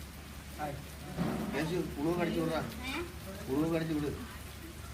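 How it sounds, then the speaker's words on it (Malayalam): Heavy rain falls as a steady broadband hiss throughout, sitting beneath several people talking close by. "നല്ല മഴ"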